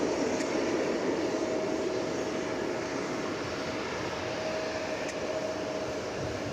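Steady, broad jet engine roar from an MD airliner taxiing at DFW Airport, a constant whine and rumble held at even loudness throughout with no talking.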